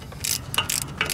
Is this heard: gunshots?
no